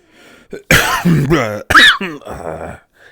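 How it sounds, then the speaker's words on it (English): A few harsh coughs and throat-clearing bursts, close and loud, separated by short pauses. "Again, sorry about the coughing."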